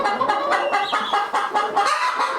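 A flock of hens clucks continuously in close, overlapping bursts, with a steady stream of short calls and no talking.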